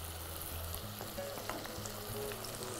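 Chopped onions and tomatoes sautéing in a pan on a cooking show, a soft continuous frying sizzle with faint clinks and scraping of stirring, low in level, with a low hum underneath and nobody speaking.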